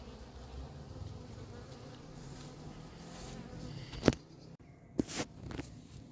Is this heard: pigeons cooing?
no